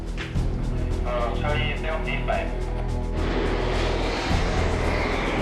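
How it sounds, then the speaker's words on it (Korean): A TA-50 light attack jet takes off from a runway for a live-armament test flight, its engine building from a whine into a loud, sustained roar, with someone narrating over the first half. "오후 4시 드디어 TA-50 경공격기가 실무장 테스트를 위해 이륙한다"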